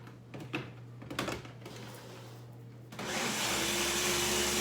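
A Ninja blender mixing cake batter with eggs kicks on abruptly after some light clattering, then whirs loudly and steadily close by.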